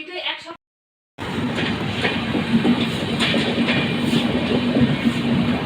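After a brief voice and a moment of silence, a passing train rumbles steadily with rhythmic clickety-clack of wheels on rails, moderately near, lasting to the end.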